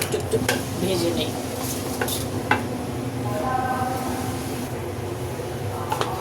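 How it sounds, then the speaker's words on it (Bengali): Ingredients fry in a pan for winter vegetable pulao, a moderate sizzle under scattered clinks and scrapes of a utensil against the pan, with faint background sounds throughout. "এটাকে আমি একটু এভাবে ভেজে নিচ্ছি, 2-3 মিনিট একটু ভেজে নেই"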